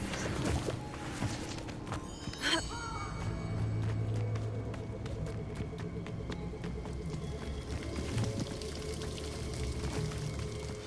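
A waterfall in Hogwarts Legacy pours with a steady, full rush throughout, while a sharp thump and soft tonal game sounds sit on top of it.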